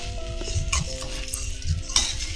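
Rice is tempered with salt and turmeric in a pot. A spoon stirs and scrapes the grains in short strokes with occasional metal clinks over a faint sizzle, with no talk.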